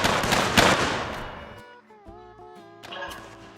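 Cannon fire in the Mount & Blade Warband Civil War mod opens with a loud, booming blast that rolls off, followed by tonal game music, then a quieter second report near the end.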